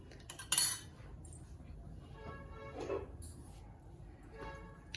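A utensil crushes boiled egg with salt in a bowl, making a few scattered clinks and scrapes against the dish with quiet pauses between them.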